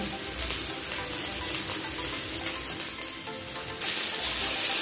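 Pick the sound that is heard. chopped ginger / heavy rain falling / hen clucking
chopped ginger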